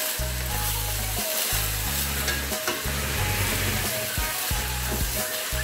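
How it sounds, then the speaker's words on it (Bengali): Food frying in a pan with a constant loud sizzle and the clatter of stirring, while a low steady hum runs underneath throughout. "একটু ভালো করে ভেজে নিচ্ছি"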